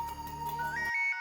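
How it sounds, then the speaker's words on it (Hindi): A phone ringtone chimes in a short melodic burst, a bright electronic tune that plays for about a second and cuts off. "बजी बजी, हमारी किस्मत की घंटी बजी। दया बहन का फोन है।"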